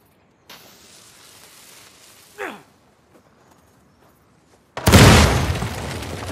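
A door is blasted open by an explosion in Uncharted 4, a sudden loud broadband boom that rings out for over a second. It comes after quiet ambience and a brief sliding whoosh.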